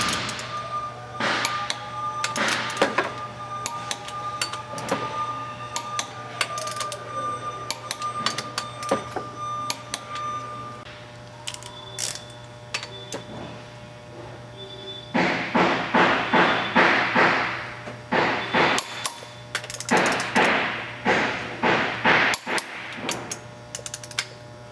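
Flywheel bolts on a 2000 Honda Civic EX 1.6L are seated and torqued to 87 pound-feet, giving repeated sharp metallic ratchet clicks in bursts, with a steady low hum underneath throughout.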